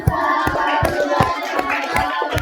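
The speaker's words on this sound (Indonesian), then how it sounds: "Saya kasih tepuk tangannya." Students in a classroom clap after a presentation, a few separate, evenly spaced hand claps nearby over steady background chatter.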